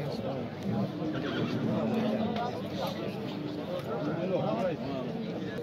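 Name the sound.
horse neighing at a livestock market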